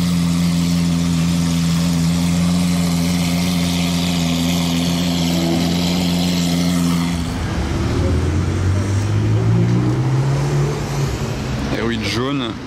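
A supercar idles, then revs in the Monaco casino car park: a loud, deep droning exhaust that shifts into rising and falling engine sweeps partway through, ending with sharp revving bursts, talk heard beneath it.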